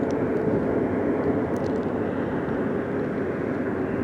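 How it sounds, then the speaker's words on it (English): Lufthansa Airbus A330-300 with two Rolls-Royce Trent 772 engines taking off from Boston, a steady loud broadband jet roar that holds constant throughout, with no voices. "One of my personal favorite aircraft engines."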